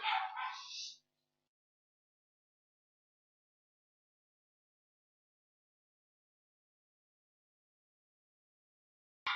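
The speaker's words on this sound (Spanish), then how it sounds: "se volvió loco el perro" A dog lets out a short burst of excited barks and yips at the start, then long silence before another brief bark cut off at the very end.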